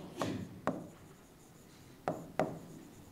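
Pen or chalk writing during a university English lecture: four brief, scratchy strokes, two in quick succession and then another close pair, quiet and close with no talking.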